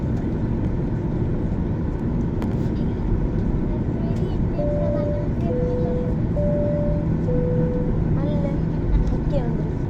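A passenger jet taxiing on a runway before takeoff, with a steady loud engine roar heard from inside the cabin and brief tonal chimes partway through; voices murmur faintly under the drone.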